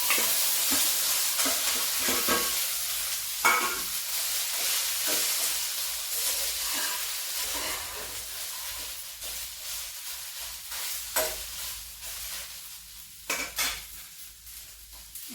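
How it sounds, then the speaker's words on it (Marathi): Okra sizzles and fries in hot oil in an iron pan, a steady close crackling hiss with scattered clinks and scrapes of a utensil against the metal throughout. "भेंडी आपली भाजत आहे पहा आपली भेंडी भाजत आहे"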